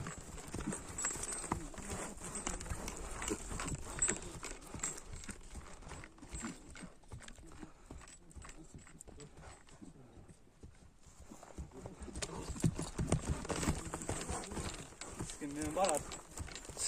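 A large, heavily built horse offered for sale walks with steady clip-clop hoofbeats close by, while people talk over it nearly throughout.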